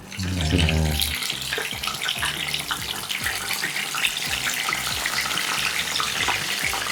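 Duck pieces sizzle and crackle in hot oil, a steady close-up bubbling hiss that follows a brief thump as the food goes in, frying Indonesian-style fried duck.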